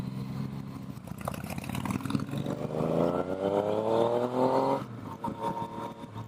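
A 2017 Yamaha FJ-09 (Tracer 900) motorcycle engine revs steadily under way, its pitch climbing through a sustained acceleration before easing off near the end, loud and close with no talk.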